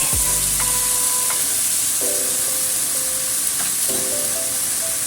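Lamb slices stir-fry in a hot wok with broad bean paste liquid, giving a loud, continuous sizzle broken by a few sharp scrapes and clinks of the spatula against the pan.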